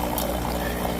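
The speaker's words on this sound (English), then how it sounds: "use the frother or steam wand to add hot water in" Hot water hissing and pouring from the steam wand of a Wirsh 20-bar espresso machine into a cup, a steady, close trickling rush with a faint hum for about a second, no voices.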